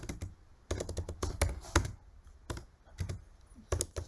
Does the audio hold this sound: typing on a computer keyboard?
yes